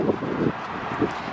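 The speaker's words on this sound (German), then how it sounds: "Ich hoffe, der Wind ist nicht so stark." Wind buffets the microphone at Santa Monica Pier in short, low rumbling gusts, with a faint hiss of open air between them.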